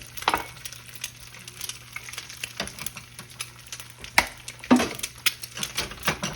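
Leftover corned beef hash frying in a pan after being flipped, a soft steady sizzle broken by scattered scraping and clinking utensil knocks, close by and with no voices.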